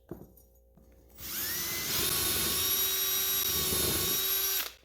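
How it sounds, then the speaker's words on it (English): A power drill with a cleaning attachment spins up with a sharp whine, runs steadily at high speed for about three seconds, then winds down and stops. "I like these little drill attachments."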